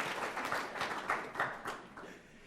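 Audience applause at a Pro Football Hall of Fame event with Marv Levy, a moderate wash of clapping for coaches that swells and eases over a couple of seconds, with faint voices mixed in.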